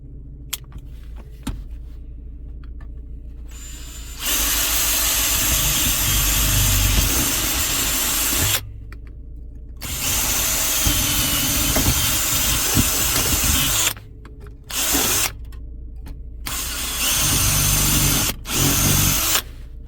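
A power drill bores out rivets on a Volkswagen Polo body panel in loud sustained bursts, starting and stopping several times with brief pauses between runs.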